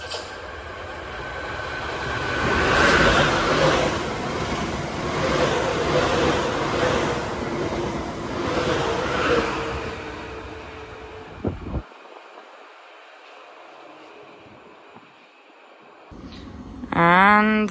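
A Class 465 electric multiple unit approaches and rushes past a platform at Higham station, a loud rolling roar that builds and then drops away to near quiet, with a brief rising metallic tone at the very end.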